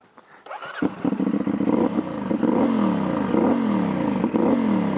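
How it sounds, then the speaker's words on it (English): The twin-cylinder exhaust of an F.B. Mondial Piega 452 motorcycle starts up and revs steadily, loud and close, its throaty pulsing rising and falling in repeated throttle sweeps. "it's also very racing the noise of this bike"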